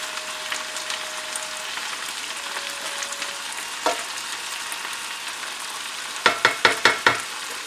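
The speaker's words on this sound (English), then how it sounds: "fry a little bit." Bacon frying in a pan for German potato salad: a faint, steady crackling sizzle, a single knock partway through, then a quick run of five or six sharp utensil taps against the pan, with no voices.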